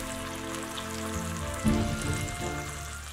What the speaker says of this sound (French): Ajoutez l'échalote émincée dans le jus de cuisson des échines et la faire légèrement dorer, puis déglacer avec le vin blanc